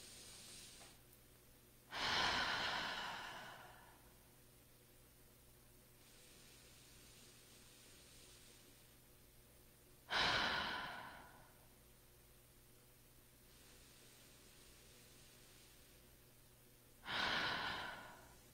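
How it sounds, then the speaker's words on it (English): Three slow, deep breaths during a guided relaxation, each a long audible inhale swelling into a breathy sighing exhale, spaced several seconds apart with quiet pauses between, close and soft. "it's just an inhale and an exhale"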